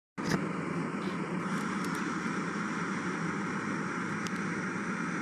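A video-game airplane drones steadily overhead, a constant loud engine roar that sustains throughout without fading.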